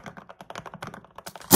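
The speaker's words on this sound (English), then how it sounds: "you want a Thocc-y custom mechanical keyboard that looks and sounds like this" Typing on a thocky custom mechanical keyboard, a quick run of crisp, deep keystrokes close up, ending in a louder bottoming-out clack.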